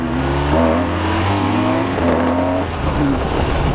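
A 2016 BMW R1200 RT motorcycle engine revs hard as the bike pulls away, with rising and falling harmonic engine tones that stay loud and close throughout.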